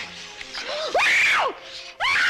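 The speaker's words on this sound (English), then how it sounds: "Stop screaming, I don't want to hurt you" Woman screaming in a 1965 Western television drama, two or three loud, rising and falling shrieks close up, with a short gasp between them.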